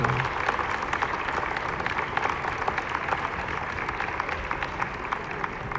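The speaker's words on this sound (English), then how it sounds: "Jemima coming to her feet now, gets a round of applause." Spectators in a gym at a girls high school basketball game applaud as an injured player gets up, steady moderate clapping with a murmuring crowd underneath.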